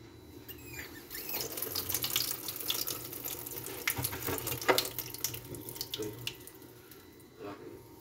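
An opened tap runs: water gushes and splashes in a steady stream, with small drips and a faint squeak. The sound is moderately quiet and close, with no voices.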